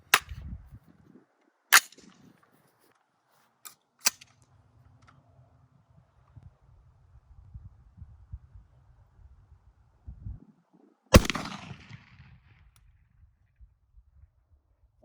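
Rifle gunshots at small round steel targets 50 yards away: several sharp, loud cracks spaced seconds apart, with quieter rumbling and faint knocks between shots.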